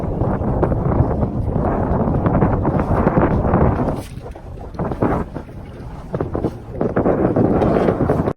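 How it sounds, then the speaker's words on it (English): A small dinghy motoring back at night across open water, with a constant loud rush of engine, hull and wind noise buffeting the microphone, easing briefly midway before building again. "I love driving back in the dinghy at night."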